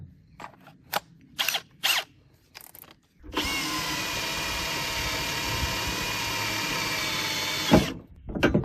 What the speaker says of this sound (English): We're just gonna drill all the way through that thing.